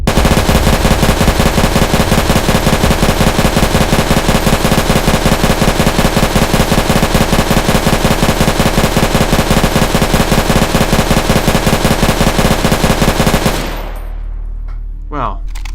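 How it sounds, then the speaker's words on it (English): Rapid, sustained bursts from MG34 machine guns in Garry's Mod, loud and continuous for about thirteen seconds before cutting off abruptly into near silence. "We'll begin with MG34 at each side, of course."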